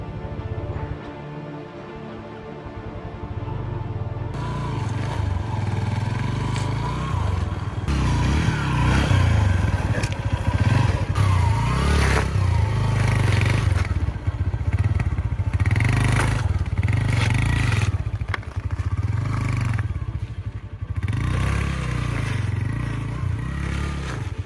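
A motorcycle struggles along an icy, snow-covered mountain valley road in -14 °C cold, its engine revving and labouring close up, with clattering, scraping and thuds as it slips over the ice for a long stretch.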